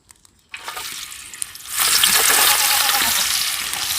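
Chopped onions drop into hot oil that was used for frying fish, and a loud, broad sizzle rises at once and holds steady, close by, with no talk.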